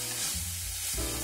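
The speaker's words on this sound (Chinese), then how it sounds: "翻炒到有葱香味了就可以装盘了" Lamb and green onion stir-fried in a wok: a close, busy sizzle with scraping stirs, one brief louder clatter at the end, and no talking.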